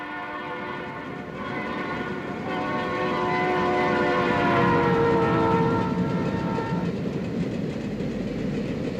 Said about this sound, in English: Let's watch a pair of U-50Cs at speed near North Platte.